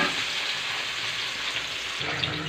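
Pieces of taro fry in hot oil in a home kitchen, a steady close sizzle that shifts slightly in tone near the end, with a faint stir.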